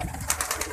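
Pigeon sounds, a brief soft burst of fluttering and low cooing-like noise with a few faint rhythmic pulses, close and quiet.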